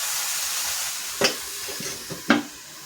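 A steamed dish is stirred in a pan: a soft continuous sizzle and hiss with two distinct scraping strokes of the spoon, fairly close, without speech.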